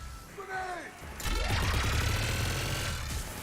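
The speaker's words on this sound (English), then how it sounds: "Just following the gunfire." Mass Effect 3 combat with a grenade blast followed by sustained rapid gunfire, a loud dense burst of shots and mechanical clatter that continues steadily after a brief rising tone at the start.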